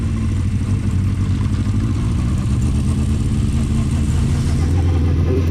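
Honda CB400/4 Super Sport classic motorcycle engine running lumpy with carburettors needing a clean, a steady close-up chugging idle with an uneven, pulsing beat and no voices.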